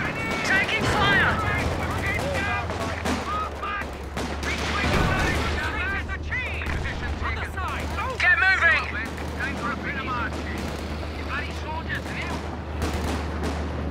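Gunfire and artillery in the Company of Heroes 2 strategy game: dense overlapping rifle and machine-gun bursts with heavy booms over a low rumble, continuous and loud, with game voice lines breaking in.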